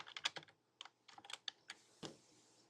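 Keys on a computer keyboard clatter in quick irregular bursts of clicks, close and fairly quiet, with a slightly louder final keystroke and no one speaking.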